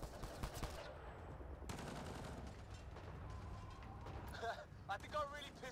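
Gunfire from the video game Mass Effect Andromeda: rapid bursts of automatic weapon fire repeat across a noisy combat soundscape, with game voices and effects mixed in.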